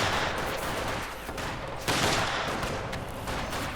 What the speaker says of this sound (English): Granatenwerfer firing away